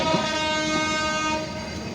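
A passenger train leaving Ishwardi Junction station for Khulna, with a loud sustained horn sounding steadily for about two seconds and easing slightly near the end.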